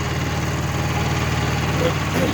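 A Kubota B5001 compact tractor engine runs at a steady idle in a field during tilling work, a continuous close-up mechanical drone with even low rumble and no talk over it.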